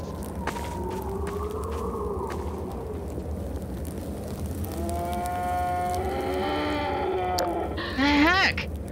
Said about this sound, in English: What is that, like a cow?